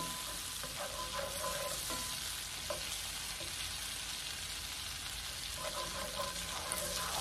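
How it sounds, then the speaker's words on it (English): Butter, garlic cloves and green onions brown together in a pan for a New Orleans BBQ shrimp po boy, giving a faint, steady sizzle with a few soft stirring clicks. "I'm gonna put all this mix together and kind of let it brown for a second"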